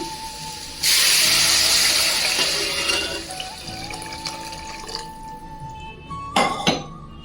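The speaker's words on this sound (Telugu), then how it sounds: "ఇప్పుడు వాటర్ యాడ్ చేసుకుంటున్నా" Water pours in a steady rush into a cooking pot for mixed vegetable rice and then stops, followed by quieter clinks of a metal utensil and a short final splash.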